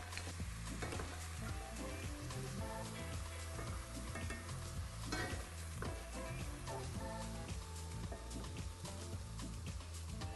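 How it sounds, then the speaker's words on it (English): Aubergines sizzle and fry in a hot pan for a vegan beefless stew, a steady crackling hiss with occasional stirring scrapes, close and continuous, no talk. "I'm going to really quickly just saute these aubergines just to get them nice and brown on the outside"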